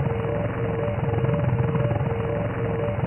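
A helicopter whirs steadily in the Buggy PC video game, a continuous rotor and engine drone with faint periodic tonal pulses, even and unbroken throughout.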